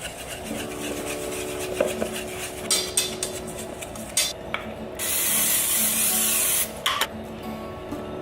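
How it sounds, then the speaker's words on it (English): Oil being sprayed from a can over the top of a healthy high-protein breakfast dish before baking: a steady, close hiss of about two seconds, with light kitchen clatter and handling noises before and after. "And you spray the top with oil as well."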